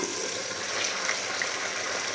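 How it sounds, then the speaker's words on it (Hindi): Water pouring into a pot of browned onions while making chana pulao: a steady broad hiss and gush at close range, continuous and fairly loud, with no voices. "तो देखिए मैंने पानी डाल लिया"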